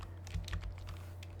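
Quick, light computer mouse clicks patter in an irregular burst while grinding skills in Quest for Glory 2, faint and close over a steady low electrical hum.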